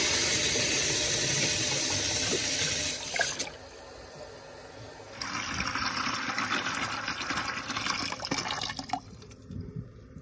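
Water rushes hard through a heat exchanger being flushed to clear debris from its tubes, a loud steady hiss that cuts off briefly, then resumes as another strong stream before tapering.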